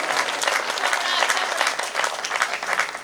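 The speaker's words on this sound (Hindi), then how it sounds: "एक बार जोरदार तालियां बजाकर" Dense, steady clapping from an audience at a Hindi comic poetry gathering, a kavi sammelan, filling the clip loudly and evenly throughout, with no speech.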